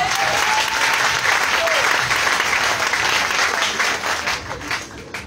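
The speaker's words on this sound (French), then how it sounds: "Est-ce que quelqu'un peut acclamer le Seigneur?" A church congregation claps and cheers for the Lord in Yopougon, Abidjan, a dense, steady wall of applause at close range that stays strong and then thins slightly near the end.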